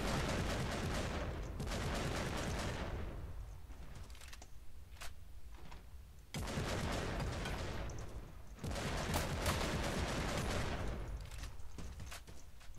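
Video game gunfire from Eternal Crusade rattles in dense, loud automatic bursts, broken by short lulls with scattered single shots before the heavy firing resumes.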